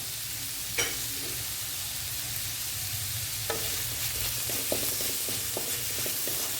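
Sliced onions sauté in a pan for chicken masala gravy, a constant sizzle with a few scraping stirs of a spoon, close and without talk.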